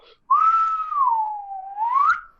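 A single clear human whistle, close and loud, gliding down in pitch and then rising again over about two seconds, with no talking.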